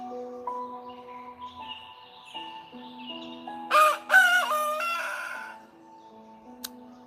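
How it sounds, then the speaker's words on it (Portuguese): A rooster crows once, loud and fairly close, a drawn-out cock-a-doodle-doo with a rising, wavering call, over a quiet background of faint tones and birdsong. "Terceira vez que o galo cantou."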